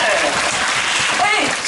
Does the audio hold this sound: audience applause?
yes